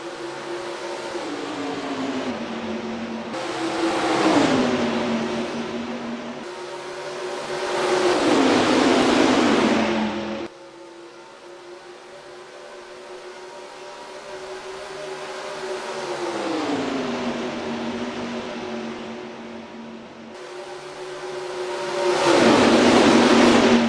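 IndyCar race cars taking the green flag at Kentucky Speedway in NASCAR Racing 2003, a pack of engines roaring and revving up and down through gear changes, loud and continuous with passing swells.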